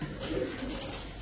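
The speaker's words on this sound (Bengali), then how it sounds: "ব্লু বার্লেস কি কবুতর এটা? সোহুমা, ব্লু বার্লেস সোহুমা।" A blue barless pigeon gives a brief, low, soft coo, close by and fairly faint over a little background noise.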